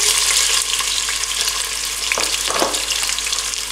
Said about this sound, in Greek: Ξεκινάμε ρίχνοντας το κρεμμύδι